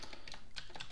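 A word is typed on a computer keyboard, a rapid run of light, close key clicks lasting about a second, with no voices.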